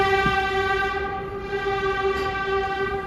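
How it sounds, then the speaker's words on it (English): A train in New York City passes close by. Its horn holds a loud, steady harmonic blare over a constant rumble of rolling wheels, and no voices are heard. "That's the sound of the train."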